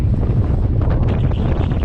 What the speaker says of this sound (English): It is pretty windy up there.